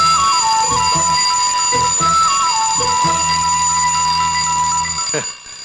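An alarm clock rings continuously with a bright, steady electronic tone, loud and near, running alone for about five seconds before cutting off.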